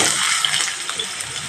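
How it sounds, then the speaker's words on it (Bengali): Potato pieces frying in hot refined oil in a pan, a steady close sizzle with light crackles throughout the brief moment. "একটু লবণ আর একটু হলুদ দিয়ে আলুটা একটু ভেজে নেব"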